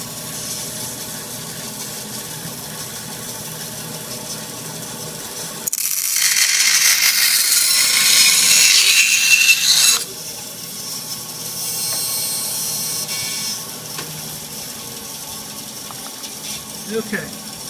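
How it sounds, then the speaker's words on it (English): A bandsaw whines through stiff Kydex plastic in one loud, harsh burst lasting a few seconds, then drops back to a quieter hum of the running machine. "I'm going to crank on the bandsaw now"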